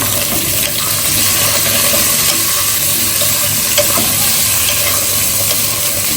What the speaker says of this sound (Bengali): একটু ভেজে নিই এখানে সিম ফুলকপি আর আলু একসাথে দিয়ে একটু কষাই ফেলবো